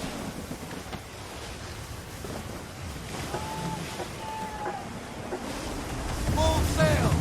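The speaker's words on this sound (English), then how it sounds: "Gusty winds can be difficult to manage." Gusty wind and rolling ocean waves at sea aboard a sailing ship in Assassin's Creed III, a steady broadband rush with a few faint tonal creaks midway and a louder surge of water near the end.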